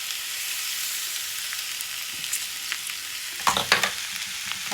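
Poha (flattened rice) frying with turmeric and lemon in a pan, a steady bright sizzle with scraping stirring strokes that grow louder toward the end, close and clear with no talking.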